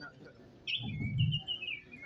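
A bird chirps in a pantomime stage performance, a few thin high calls over a low murmuring background, with a soft muffled rumble in the middle.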